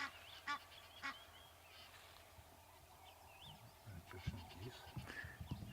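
Egyptian geese at Ngala Private Game Reserve give several faint, distant honks and calls scattered over soft outdoor background noise.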